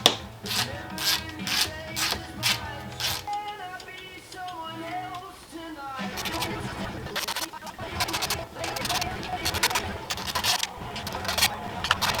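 A ratchet clicks in rapid bursts while loosening the spark plugs on a BMW E36 M3 engine, close by, with a pause between two runs of clicking.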